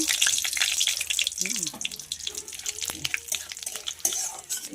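Bay leaves and cumin seeds go into hot cooking oil, giving a steady, crackling sizzle with bright spatter pops close up and a soft voice speaking briefly underneath.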